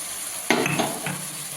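Chunks of arum root (maan kochu) are stirred and fried with a wet spice paste. A steady close sizzle runs throughout, broken by a few short scraping strokes of the spoon through the pan.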